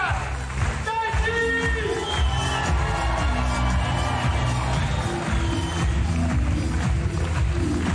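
Spectators at an Ary Abittan stand-up comedy show in Le Mans or Tahiti cheer and whoop over a continuous crowd roar, with scattered shouts rising above the din.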